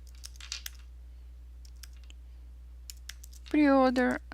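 Someone types on a computer keyboard while making a poster in design software. Sparse, faint key clicks come close in a quiet room, followed by a short burst of voice at the end.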